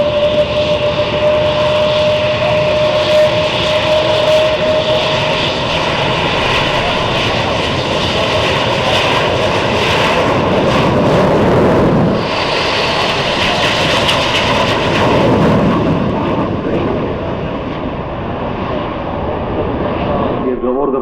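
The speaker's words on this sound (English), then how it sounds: "Our team is trying now to enter the taxi and to prepare to take off." Hongdu L-15E jet trainer of the Fursan Al Emarat display team taxiing before take-off at Farnborough Airshow, a loud steady jet engine roar and whine close by, swelling midway then easing, with no voices heard.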